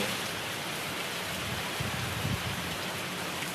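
Steady rain falls and patters on a surface, a dense even hiss with no voices, continuous from start to finish.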